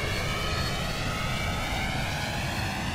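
Steady, loud jet roar from a Boeing 717-200 taking off in Flight Simulator X, a continuous broadband engine rush with a faint whine on top, unbroken and close throughout.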